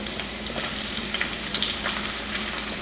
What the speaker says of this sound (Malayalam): വെളുത്തുള്ളിയുടെ നിറം ഒന്ന് മാറി വരുമ്പോൾ നമുക്കിതിലേക്ക് സവാള അരിഞ്ഞത് ചേർക്കാം.